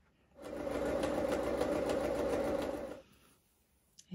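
A sewing machine stitches along the edge of dress fabric in a steady, close, fast whir lasting about two and a half seconds, then stops, followed by a small click.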